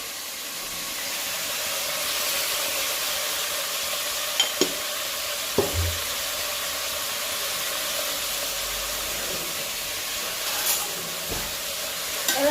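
Brinjal curry with turmeric and salt is stirred in a hot frying pan: a continuous moderate sizzle with occasional sharp scrapes and clinks of the spoon against the pan, no talking.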